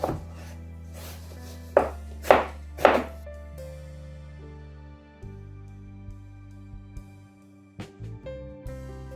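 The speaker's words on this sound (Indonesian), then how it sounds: "Jadi ini semuanya kita potong-potong ya. Potong kayak segi-segi gitu." Knife chopping aubergine into cubes on a cutting board, three or four sharp, close chops in a quick burst, then quieter scattered taps as the pieces are moved, with music playing underneath.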